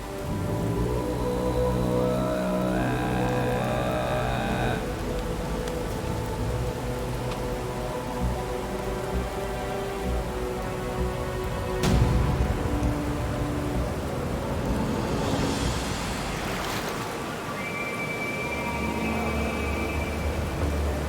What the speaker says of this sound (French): Gérer le vent, gérer la pluie.